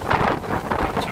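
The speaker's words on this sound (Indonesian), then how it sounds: "Kencang sekali anginnya." Strong wind buffets the microphone outdoors during a cold spell in Merauke, South Papua, a loud, continuous rumble with gusty surges and no talk.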